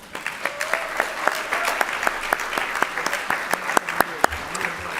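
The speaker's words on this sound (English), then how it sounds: "a round of applause for our Lifetime Legacy awardee, Kwasi Mfume" Sustained audience applause fills a gala hall at a national legacy awards ceremony in Baltimore, dense clapping with sharp individual claps standing out throughout, steady and moderately loud with no talk over it.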